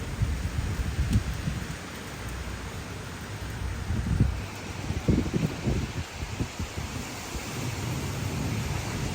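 Steady heavy typhoon rain pours down with a dense hiss, punctuated by low rumbles and thumps, no voices present.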